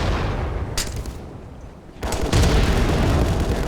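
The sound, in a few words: grenade explosion in a VR shooter video game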